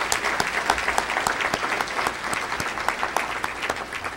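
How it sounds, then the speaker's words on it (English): An audience at a community breakfast on public education claps for Bill, a dense, steady round of close applause lasting several seconds without a break. "Let's all give Bill a great round of applause for his work and his efforts."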